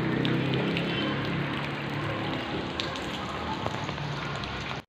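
Heavy rain pours steadily, a dense continuous hiss and patter close by, with no voices.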